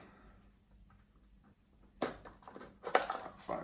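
Cardboard packaging for a MEATER+ wireless meat thermometer being forced open, with a quiet stretch giving way to loud, close crinkling, tearing and scraping bursts in the second half.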